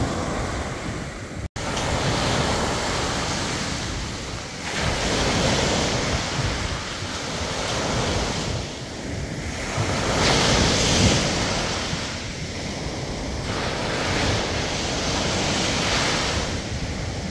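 Atlantic Ocean waves break and wash up on a Miami beach at sunrise, swelling and receding in slow, regular surges every few seconds under steady wind rush.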